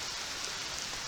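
Rain falls steadily outdoors where a campfire is being started, giving an even, dense hiss without clear breaks, fairly close and unbroken by any talking.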